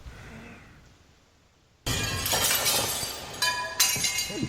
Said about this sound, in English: there'd be a smashing glass sound